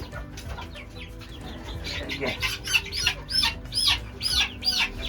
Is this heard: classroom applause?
no